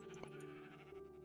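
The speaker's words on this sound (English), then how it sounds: "If I can find some more sheep, then we can make a travelling bed" A sheep bleats faintly in the Minecraft (Tekkit) video game, a single short tonal bleat set against a low, steady background.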